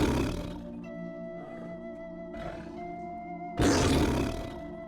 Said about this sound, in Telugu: పులి గట్టిగా కేకలేస్తోంది.